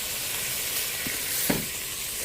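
Chicken pieces brown in an Instant Pot, giving a steady close hiss of frying fat with a couple of faint pops and no voices.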